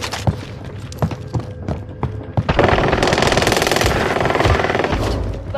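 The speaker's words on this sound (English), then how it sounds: "Getting shot at!" Heavy automatic gunfire in the Warzone video game, sporadic loud shots and thumps at first, then a sustained dense burst of rapid fire that continues to the end.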